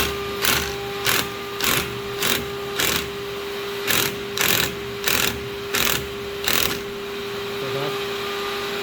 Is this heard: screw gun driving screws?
yes